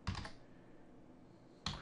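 Two short bursts of computer keyboard typing, one at the start and one near the end, with near silence between them, close and quiet.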